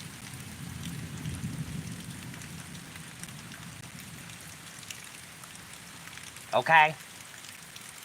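Steady heavy rain pours throughout a severe thunderstorm in Kansas, a dense hiss with low rumbling underneath, and near the end a person speaks briefly over the downpour.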